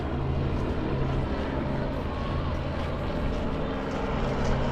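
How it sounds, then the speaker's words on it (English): A continuous loud rotor and engine roar of a helicopter overhead near a beach lighthouse in Zhuhai, China, steady throughout with no pauses. "there's the helicopter"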